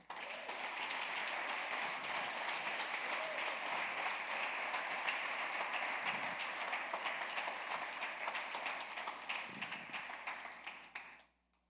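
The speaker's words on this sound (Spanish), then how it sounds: "¿Qué tal si le damos un aplauso a Dios?" Steady applause from a church congregation, many hands clapping continuously before fading out at the end.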